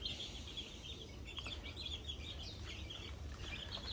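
A small backyard flock of chickens with chicks clucks and cheeps, with soft scattered peeps and calls over a steady low rumble of background noise, fairly quiet and near, with no talking.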